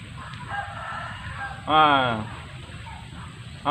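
A rooster crows once, loud and close, a drawn-out harmonic call standing out against a busy background with voices and general noise around it.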